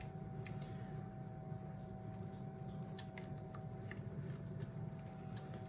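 Cream is whisked into a melted cheese sauce for a tortellini Alfredo bake: soft, wet squishing and light tapping of the whisk in a steady, quiet rhythm over a low kitchen hum.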